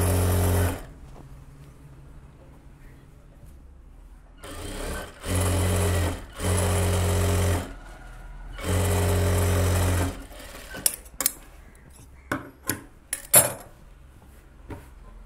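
Sewing machine stitching a puff sleeve, several loud whirring runs of a few seconds each separated by pauses, followed by scattered clicks and taps of handling.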